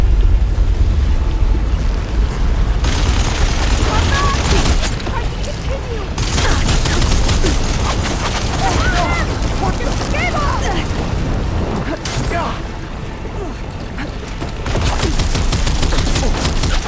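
Continuous gunfire and explosive bursts in Horizon Forbidden West during a fight in Farro's Tomb, loud rapid popping and booms layered over a dense battle roar, with voices talking at points.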